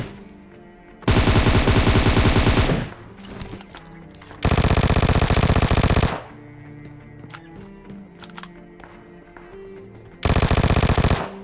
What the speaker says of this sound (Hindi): मेरे हाथ में जो भी गन थी मैंने वो चला दी